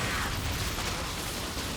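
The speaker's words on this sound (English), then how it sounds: "Supply depot's going down." A Terran supply depot in StarCraft is destroyed with a dense, steady mechanical crunch and rumble of collapsing metal, continuous and fairly loud, with no talk.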